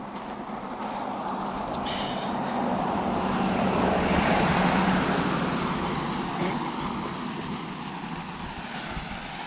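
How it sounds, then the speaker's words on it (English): A large vehicle's rumble swells and fades as it passes by on a road, over steady outdoor traffic noise. "Sorry for the truck noise."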